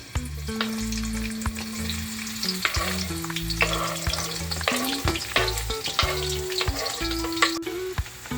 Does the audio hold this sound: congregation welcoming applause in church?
no